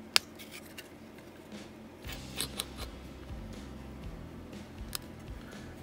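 Wire cutters snip component leads off a scrap circuit board, a few sharp clicks and snaps scattered over quiet handling noise, close and fairly soft.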